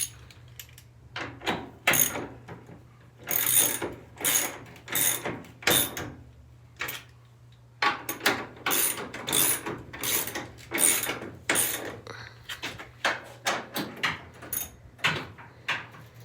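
Repeated ratcheting clicks in short bursts while bolts are tightened during installation of a Mustang door, loud and close with a steady low hum underneath and brief pauses between strokes.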